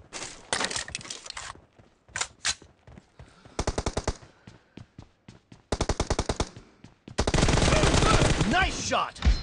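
Rapid automatic gunfire in the mobile battle royale game PUBG Mobile, loud close bursts of rattling shots separated by short gaps, ending in a long sustained volley.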